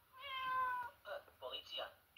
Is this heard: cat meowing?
yes